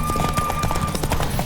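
Horse hooves trotting in The Witcher 3, a quick, even clip-clop of hoofbeats, loud and close, running steadily throughout.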